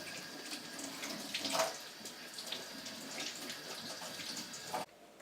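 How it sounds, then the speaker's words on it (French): Tap water runs steadily into a sink while hands are washed, a close continuous splashing hiss with small shifts in the flow, stopping abruptly near the end. "Et de laver ses mains"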